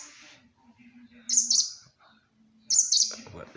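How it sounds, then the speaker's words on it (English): A little bird, apparently young, gives two sharp, high chirping bursts about a second and a half apart, close and clear, with faint background sounds between them and a soft lower noise at the end. "this is another video with the little bird"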